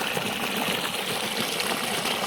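Irrigation water spraying over an onion field in the morning, a dense continuous rushing spatter, steady and close, with no talk.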